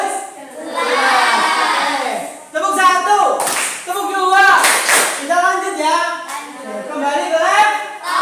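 A classroom of children chants together in a rhythmic clap routine, voices rising in unison with claps punctuating the chant in a patterned beat, close and lively.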